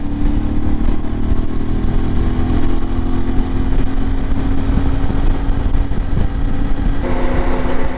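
IBEX 450 motorcycle engine droning steadily at relaxed RPM while riding on a road with a 15-tooth sprocket fitted, a loud continuous mid-pitched hum with a slight pitch shift near the end and no talking.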